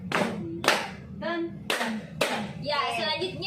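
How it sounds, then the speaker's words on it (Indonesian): A group clapping a rhythmic pattern in a classroom, several sharp clap bursts in an uneven beat, interleaved with voices and vocal sounds, fairly near. "kita sambung tepukan pertama dan tepukan yang kedua"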